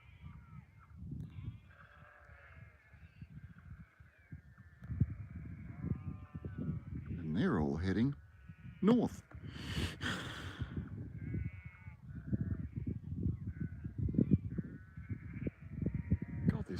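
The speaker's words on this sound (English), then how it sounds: "There would have to be 500 sheep over the other side of the road." A large flock of around five hundred sheep bleats across a road in open country, a steady chorus of overlapping near and distant calls, with someone speaking briefly over it.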